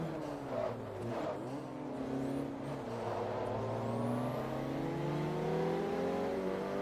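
Vauxhall car engine from the racing game Forza Motorsport 3, with a steady inline-four drone that rises gradually in pitch as the car accelerates.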